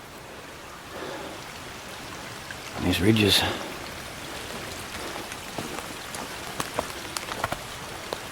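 Steady patter of rain falling through trees, with a brief louder rustle near the start and a voice speaking briefly.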